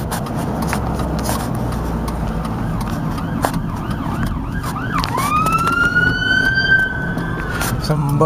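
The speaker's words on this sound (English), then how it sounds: "oh, here comes an ambulance." An ambulance siren wails as it passes along a road, rising from faint to loud with sweeping pitch, over steady traffic rumble.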